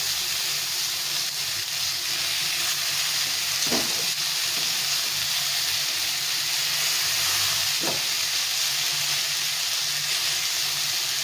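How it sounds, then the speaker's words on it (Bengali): Lentils and vegetables fry together in a pan with a steady, dense sizzle and hiss, broken by a couple of faint stirring scrapes. "এই ডালটার সঙ্গে সবজিটা ভালো করে ভেজে নিতে হবে।"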